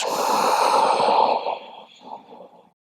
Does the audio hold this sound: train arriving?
no